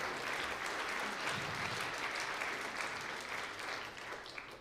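Audience applause at a senior recognition event for graduating seniors, a continuous crowd of clapping hands at steady volume that tapers slightly toward the end.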